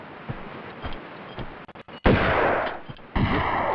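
A shotgun fires in Tomb Raider 2, with two loud, booming blasts close together near the end after several fainter thuds, and nobody talks.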